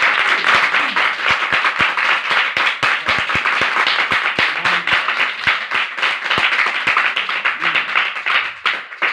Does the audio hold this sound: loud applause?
yes